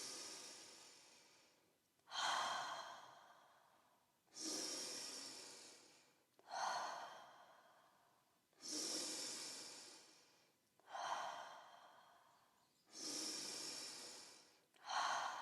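Deep, forceful breaths in a guided breathwork exercise, with about seven full inhale-exhale cycles of roughly two seconds each in a steady rhythm, close and clearly audible, with no talking.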